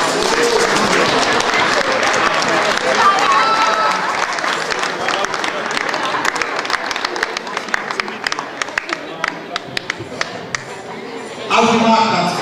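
Dense, sustained applause from an audience at a carnival stage session in Oppau fills the room, with voices mixed in, thinning toward the end before a final louder burst of clapping.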